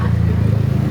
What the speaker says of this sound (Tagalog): then yung tunog ng makina, napakatahimik.